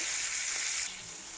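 Cleaned, cut fish pieces frying in a pan before being cooked down, a loud close hiss of hot oil that eases slightly partway through the brief moment.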